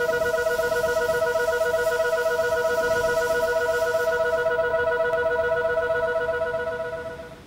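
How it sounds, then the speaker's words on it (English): A two-tone warbling gas alarm at Block 20B of an industrial plant's offsites area sounds loud and steady, alternating its tones continuously before fading slightly at the end. "Block 20B has a two-tone warble, which sounds like this."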